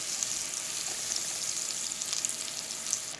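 Butter melting into extra virgin olive oil in a pot, giving a steady, soft, even sizzle with faint crackles throughout.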